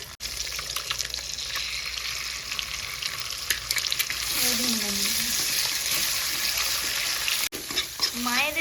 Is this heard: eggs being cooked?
yes